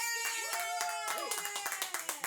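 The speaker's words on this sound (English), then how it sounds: "clap for him" A small group in a podcast studio claps in quick, uneven bursts, close and moderately loud, with laughter and excited voices running over and between the claps.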